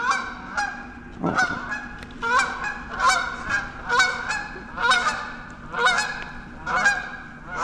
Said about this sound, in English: That's a big old goose.